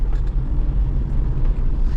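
Motorbike riding along a village road, its engine a loud, close, continuous low rumble with wind noise washing over it.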